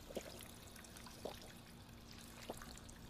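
Drinking purified water in Fallout 4 produces soft, faint gulping and trickling liquid sounds, with three small glugs spaced about a second apart over a low background hum.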